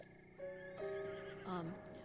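A horse neighs in The Legend of Zelda: Breath of the Wild, playing in master mode, with a wavering, pitch-gliding whinny rising and falling twice over game music, moderately loud and up close.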